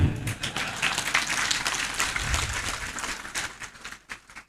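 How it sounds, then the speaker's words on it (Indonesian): Hesitant applause from an audience at an Islamic religious lecture in Indonesia, a dense, steady patter of many hands that thins and tapers off toward the end. "Kenapa Anda tepuk tangannya ragu-ragu?"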